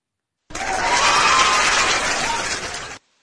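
Cheering and applause during a TikTok live stream, a burst of crowd clapping and whooping that starts abruptly, holds at an even level for about two and a half seconds and then cuts off sharply.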